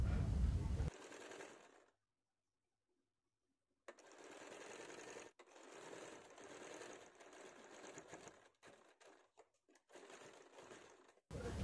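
A sewing machine stitching an old saree into a lehenga, running in steady close bursts with a two-second silent pause, then several stop-start stretches of rapid mechanical chatter.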